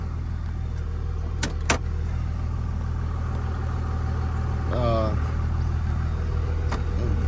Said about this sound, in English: So we're gonna hop back in the trunk and ride down here